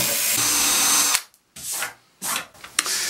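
A power drill bores into wood veneer, whirring steadily for about a second, then several shorter bursts of drilling follow with brief pauses between them, close by.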